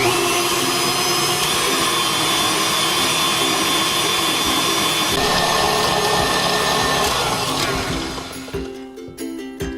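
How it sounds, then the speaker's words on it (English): An electric mixer whips hot Italian meringue for buttercream in a bowl, giving a loud, steady, close whir that runs unbroken for about eight seconds before easing and tapering near the end. "Now we're gonna let this keep going and just keep mixing"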